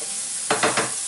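Food sizzles loudly in a hot pan, with three quick stirring scrapes over a continuous frying hiss.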